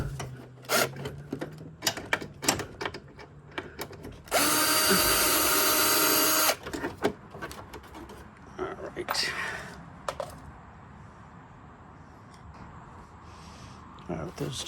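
A cordless electric drill zips out fender liner fasteners on a truck during a fender flare and aluminum inner liner install, one sustained loud two-second run amid scattered clicks, clunks and handling noise, with someone talking around it.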